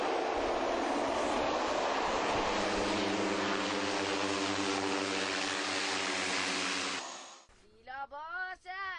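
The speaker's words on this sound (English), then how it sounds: "quite exciting as the plane meanders around the high Himalayan passes" A Twin Otter propeller plane flying over high Himalayan passes in Nepal: a loud, steady cabin drone of engines and propellers that cuts off abruptly, leaving a voice speaking.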